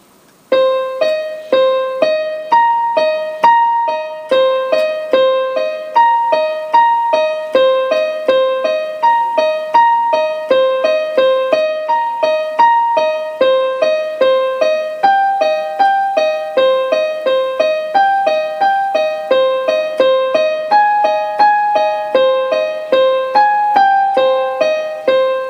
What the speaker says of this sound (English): I'll play them slowly in the right hand just so you can see how it fits together.